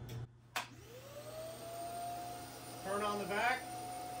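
Desktop CNC vacuum table kit running under a standard plywood sheet on a 28 by 28 inch open table, a steady close whine and hum that holds throughout, with a sharp knock early on and a voice speaking briefly over it.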